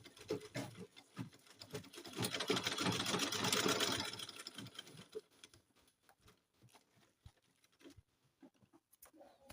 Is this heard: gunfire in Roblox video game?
no